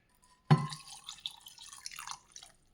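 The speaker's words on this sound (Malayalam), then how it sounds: "വെള്ളം ഒഴിച്ചു." Water is poured into a cooking pot holding salt and turmeric, starting with a sharp splash followed by a couple of seconds of faint, uneven trickling and dripping, heard alone at close range.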